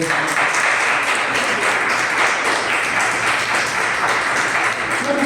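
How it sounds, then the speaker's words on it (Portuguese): A church congregation applauds steadily, dense clapping holding at an even, loud level throughout. "Um aplauso para nosso Criador."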